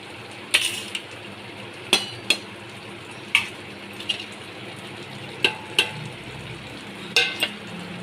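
Shrimp frying with spices in a pan: a continuous bright sizzle punctuated by sharp metallic clinks of a spatula or spoon striking the pan, roughly every second or so, close and alone without voices.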